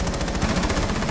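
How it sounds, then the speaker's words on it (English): Rapid automatic gunfire from a first-person shooter match in Rainbow Six Siege, a steady loud burst of closely spaced shots lasting about a second with no voices over it. "I just shot through my teammate for that."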